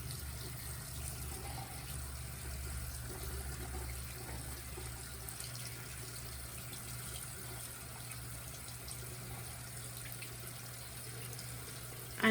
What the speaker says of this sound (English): water is getting to the very center of the sponge before I try and rinse it out